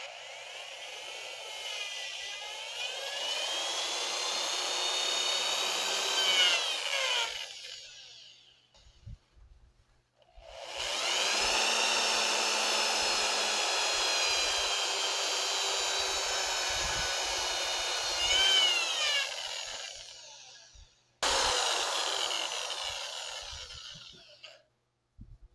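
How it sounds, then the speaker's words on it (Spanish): A handheld power drill boring a hole, whining loudly at high speed in three long bursts separated by short pauses, each run steady with slight pitch shifts as the bit cuts. "Utilizo un taladro, lo sostengo de esta forma y aquí perforo."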